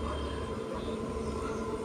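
An IRCTC Tejas Express train passes as a brief, continuous low rumble with rolling rail noise, heard at a moderate level without any clear speech over it.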